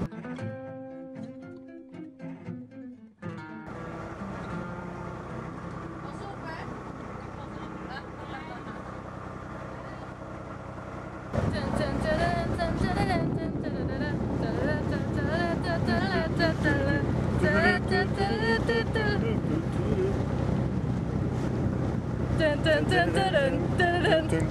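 A boat engine drones steadily in Hong Kong, growing louder and rougher partway through, with wind and water noise and people talking over it.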